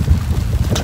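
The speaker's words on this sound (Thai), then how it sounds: "ลมแรงมาก" Strong wind on a snowy outdoor walk in Miyama, Kyoto buffets the microphone with a loud, close, rumbling roar that lasts under a second.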